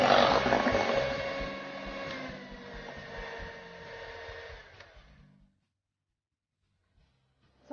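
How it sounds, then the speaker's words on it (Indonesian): An electric mixer beats kue putu ayu batter at high speed, a close, loud whirring hum that gradually softens, then stops, leaving near silence. "Dikocok dengan kecepatan tinggi ya, supaya cepat mengembang."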